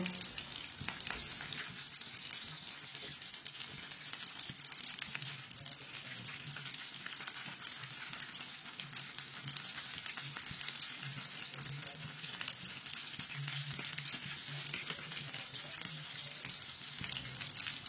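Kebabs frying in oil in a pan give off a steady, even sizzle with fine crackling spits, continuous and fairly quiet throughout, with no voices over it.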